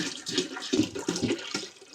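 Water poured from a container in a home kitchen to make sugar syrup for honey bees, a steady gurgling splash with a few surges, close and fairly loud, no voices.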